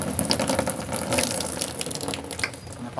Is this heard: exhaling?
no